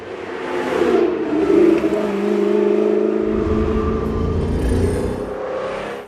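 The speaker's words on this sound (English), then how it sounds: "Under the hood lies a mid-mounted V8 engine, delivering exhilarating power and acceleration" A Lamborghini Jalpa's mid-mounted V8 drones steadily at moderate volume for several seconds, rising slightly in pitch as it revs, with no talking.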